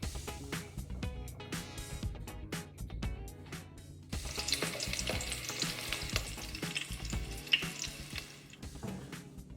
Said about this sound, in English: We just got done frying the shrimp.